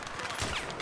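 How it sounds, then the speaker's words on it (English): A short, dense burst of video game gunfire, with rapid overlapping shots crackling in a quick volley lasting under a second. "Oh, we're getting shot in the ass."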